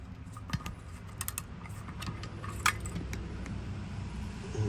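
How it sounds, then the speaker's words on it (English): A screw is loosened on an Atlas pasta machine during cleaning, giving faint, irregular metallic clicks and light clinks over a low steady background hum. "Loosen that screw."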